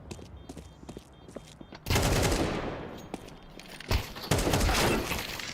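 Rifle fire tearing through a window in a Counter-Strike esports match, quieter shots first, then a loud sustained burst with shattering glass and later sharp bursts, fairly close and dense.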